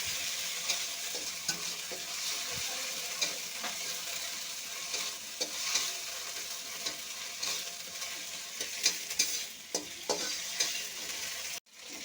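Ginger and cumin spice paste fries in a pan for a light rohu fish curry, with a continuous close sizzle and repeated stirring scrapes throughout and no talking.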